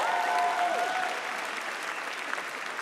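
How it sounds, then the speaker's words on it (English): Sustained applause and cheering from a concert audience at a live album launch show in a London chapel, a dense wash of clapping that stays steady and loud for several seconds before easing slightly. "I don't know why you're cheering."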